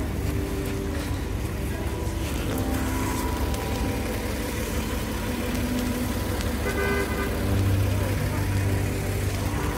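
City buses and other traffic rumble and idle on a rainy street, with a horn toot standing out over the steady background noise.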